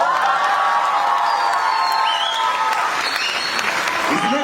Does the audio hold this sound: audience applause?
yes